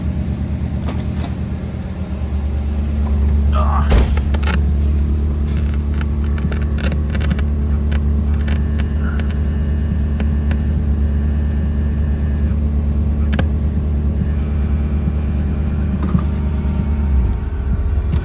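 A 1959 Ford Galaxie 500 retractable hardtop with a 352 V8 and automatic transmission cruises along, its engine droning steadily and loudly from close by the whole time, with a few brief clicks and rattles over the low rumble.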